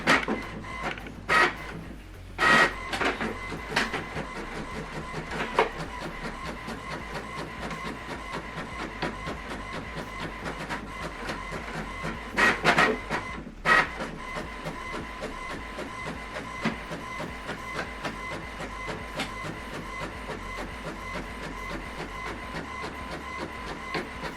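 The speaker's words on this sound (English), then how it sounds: "Now this document is printing." An HP printer runs through a single-sided document print, its mechanism whirring steadily with repeated clicks and clunks of paper feeding, loud and close for the whole stretch, with no voices.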